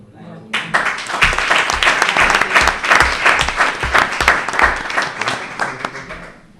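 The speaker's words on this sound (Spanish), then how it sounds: "un aplauso para ellos." An audience applauds steadily for about six seconds at a talk about experiences with cancer, the clapping dense and close, starting abruptly and holding a fairly even level throughout.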